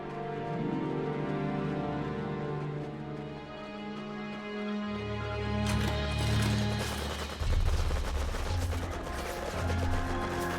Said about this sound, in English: Dojo cores receiving quite a bit of fire there from automatic weapons fire